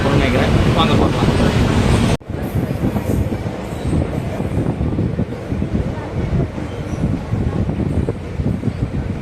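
The Sengottai–Tirunelveli passenger express rumbles along as heard from on board, with loud, steady wheel and carriage noise and wind buffeting. An abrupt shift after two seconds suggests passing through a structure or an opening window.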